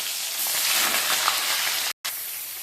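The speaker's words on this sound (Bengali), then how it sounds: "এবারে মাছগুলো ভেজে নেব তেলের মধ্যে দিয়ে।" Tilapia fish fry in hot mustard oil in a large wok, a steady, close, bright sizzle that breaks off for a moment and then resumes.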